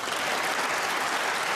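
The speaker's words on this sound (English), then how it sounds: "that applause you can hear is for the disappearance of the pink in the Irishman's favour" Snooker crowd at the UK Championship applauding a potted pink on another table, a dense, even wash of clapping from the arena filling the brief moment with no voices over it.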